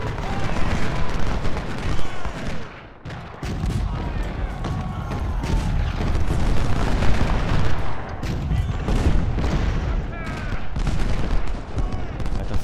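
Cannon and artillery fire boom during a Stones River battle in the Civil War strategy game Ultimate General, with dense continuous rumbling volleys, crackling musketry and scattered blasts throughout.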